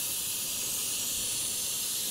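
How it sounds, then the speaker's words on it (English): Close, steady airbrush hiss spraying a light tone of mixed transparent black paint, a continuous airy spray lasting the whole short moment with no pauses. "So this is how the lighter one sprays."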